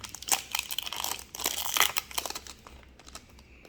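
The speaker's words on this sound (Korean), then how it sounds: "비닐을 더 뜯어 비닐. 종이를 잡아 당기지 말고." The plastic wrapper of a Pokémon card pack is torn open by hand, giving close, continuous crinkling and crackling with sharp rips through most of the stretch.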